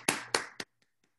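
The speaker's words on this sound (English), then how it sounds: "clap for everybody" Three sharp, close hand claps in quick succession, then near silence with a couple of faint taps.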